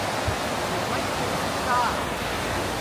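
Clean river water flowing at Arashiyama in Kyoto, a dense, steady rushing wash heard close and alone without pause.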